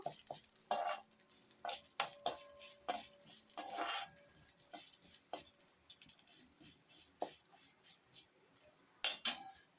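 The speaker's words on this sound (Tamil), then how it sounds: "பைத்தம்பருப்பு வந்து இதோட சேர்த்துக்கலாம் சேர்த்து இதை நல்லா வறுத்து விட்டுறலாம்" Moong dal roasting in a pan for a cluster-bean dal poriyal, stirred with a utensil: a steady run of close, sharp scrapes and clinks against the pan with a faint dry sizzle underneath, and no talk.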